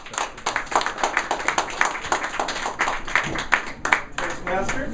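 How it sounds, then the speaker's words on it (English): Dense, steady applause from an audience welcoming a speaker at an evening speech meeting, many hands clapping at once and filling the whole stretch at an even level. "Please give a warm round of applause for Michael Quast"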